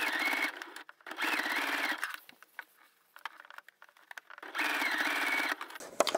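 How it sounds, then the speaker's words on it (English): A sewing machine stitches close to the edge of a child's apron in two loud running bursts with a quiet pause of fabric handling between, the motor's rapid chatter stopping and restarting. "I'm going to stitch close to the edge."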